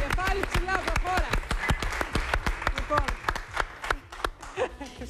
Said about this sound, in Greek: Ένα χειροκρότημα με παιδιά στην Ελευθερία